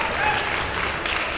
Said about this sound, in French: On a applaudi l'annonce.